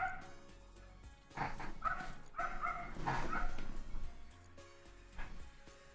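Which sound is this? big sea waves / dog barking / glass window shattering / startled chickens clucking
dog barking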